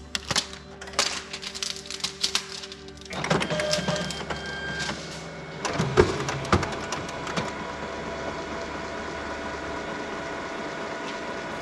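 Canon MF754Cdw multifunction colour laser printer powering up for the first time: a run of mechanical clicks, clacks and whirring motor noise in bursts, then settling into a steady internal hum, close and moderately quiet.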